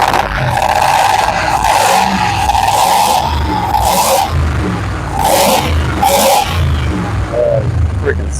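An LS V8 fitted with side-draft injection and new fuel rails idles on its first start-up, a steady close rumble with periodic louder surges and faint voices in the background.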